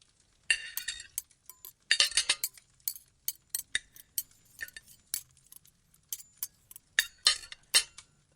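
Plates and cutlery clink in a kitchen for an audio drama, bursts of bright ceramic and metal chinks and rattles in uneven clusters, close and alone.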